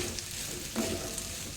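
Roasted, coarsely crushed peanuts sizzle quietly as they fry in a pan of sabudana khichdi, a soft, even crackle with a faint stir partway through.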